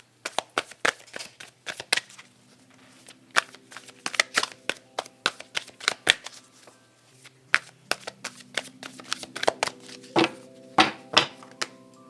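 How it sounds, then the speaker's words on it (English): Tarot cards are shuffled with quick, crisp riffling snaps in uneven bursts, close up, over faint sustained background tones. "to me that means I gotta shuffle a little bit more"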